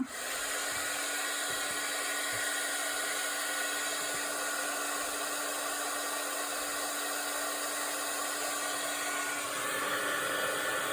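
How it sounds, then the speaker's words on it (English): A heat embossing tool warming up gives a steady, continuous blowing whir with a constant tonal hum, running loud and unbroken throughout, with no talking. "Now I'm going to heat emboss this. So I'm going to warm up my tool"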